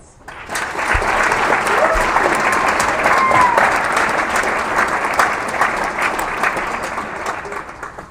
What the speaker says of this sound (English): Let's have another round of applause for these fantastic students.